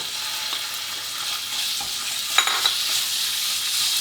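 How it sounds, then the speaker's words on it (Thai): Minced pork stir-fried with garlic in a hot pan, giving a steady low sizzle with a couple of sharp clinks of a utensil against the pan midway. "พอกระเทียมเริ่มออกกลิ่นหอมดีก็หมูสับหรือหมูบดครับใส่ลงไปเลย"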